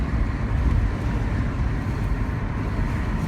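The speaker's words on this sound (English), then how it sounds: "Second gear start. Solid, throaty, smooth, great gearbox." A car with a manual gearbox pulling away in second gear, a deep throaty engine drone heard from inside the cabin, steady and smooth with low rumble and road noise.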